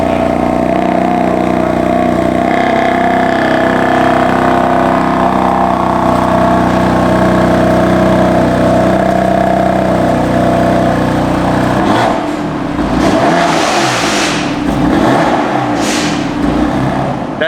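A BMW F80 M3 with an equal-length mid-pipe exhaust idles with a loud, steady, droning burble, then near the end breaks into several sharp revs that rise and fall, close and unaccompanied by speech.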